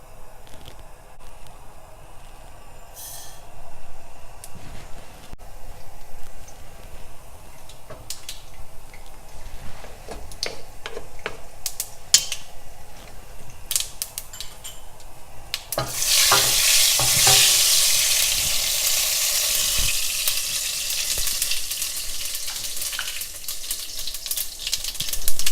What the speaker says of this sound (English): So I'm waiting for the oil to heat up, and I'm going to add the tempering seasoning. Mustard seeds, fenugreek seeds,